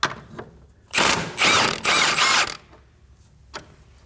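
Wrench ratcheting a nut off a sway bar link on a Kia Optima in bursts of rapid clicking, close and crisp, with short pauses between the turns.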